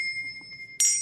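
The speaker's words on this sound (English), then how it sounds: "And this is a chime in a different octave." Handbell struck once in a different octave, a clear sustained high chime ringing alone, followed by a sudden bright metallic strike at the end.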